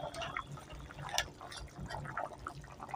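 Eggs boiling in a pot of water, a steady bubbling and gurgling wash with small liquid pops throughout, close and moderately loud.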